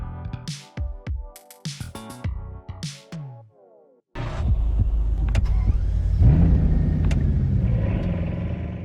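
A Bugatti Chiron Pure Sport gives a series of short, sharp revs with brief pauses, then settles into a loud, continuous engine roar that swells slightly toward the end.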